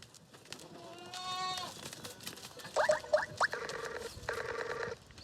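Goats grazing on a farm near gold mine tailings bleat a few times, a wavering call early on followed by brief chirpy tonal bursts, moderately close over a faint outdoor background.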